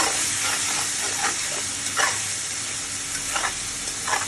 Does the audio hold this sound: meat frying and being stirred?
yes